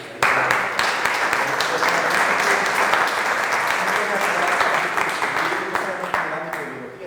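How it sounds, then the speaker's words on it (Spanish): An audience applauds a teacher at a talk on amphibians and fracking, giving steady, dense clapping that holds for several seconds and then thins slightly at the end. "Le damos un fuerte aplauso a la maestra."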